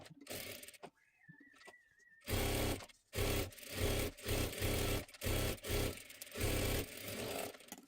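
Sewing machine running in repeated bursts while stitching a straight seam on fabric for a bordered-saree one-piece dress, with loud mechanical runs of about half a second to a second separated by short pauses, following a quiet beep at the start.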